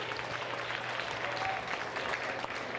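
Audience applause at a Quebec Carnival event, a steady even clapping from a crowd at moderate distance, sustained for a few seconds without voices standing out.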